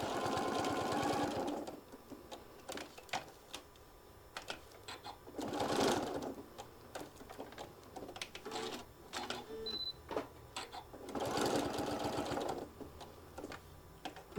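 Sewing machine tacking down fabric on a folded heart case, stitching in three loud whirring bursts with quieter clicks, handling noises and brief mechanical rattles between them, close up and without talk.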